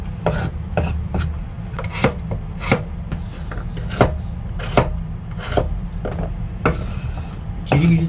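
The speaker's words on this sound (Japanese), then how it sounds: "ベーコンニンニクもほぼみじん切りで" A kitchen knife chops bacon and garlic finely on a board, giving a steady run of sharp, close knocks roughly every half second over a low background hum, with no talking.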